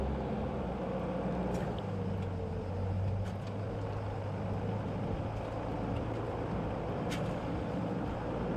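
A vehicle drives over desert sand dunes, its engine a steady low drone heard from inside, with a brief shift in pitch and occasional faint rattles and knocks over the continuous rumble.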